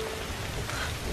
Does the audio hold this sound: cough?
no